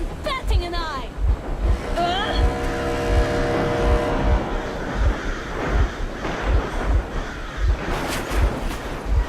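A vehicle engine runs in the video game Metro Exodus, a low rhythmic chugging pulse repeating steadily under wind-like noise, with a voice speaking over the first few seconds.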